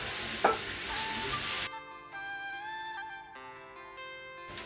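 Turmeric-spiced potato filling for aloo paratha frying in a pan gives a loud, close sizzle with scraping stirring for about a second and a half. Then the frying noise drops away, leaving a quieter tonal background.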